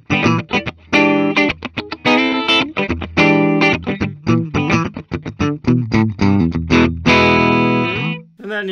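A distorted Epiphone ES-335 electric guitar with both pickups full on plays a fast, choppy riff of short bright chords and notes, loud and close, ending on a brief low rumble.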